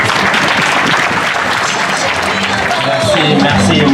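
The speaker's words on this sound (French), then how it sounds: "Merci pour vos applaudissements." Loud, dense applause from an audience at a reception, continuous clapping filling the room for several seconds.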